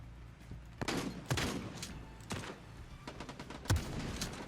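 Rifle gunfire from the Quantum League arcade shooter, several sharp, separate cracks spaced irregularly over a few seconds, fairly close and punchy, with faint game background between shots.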